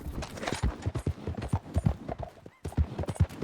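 A horse's hooves clip-clop steadily in a video game, close and rhythmic, with brief pauses and a short break in the sound partway through.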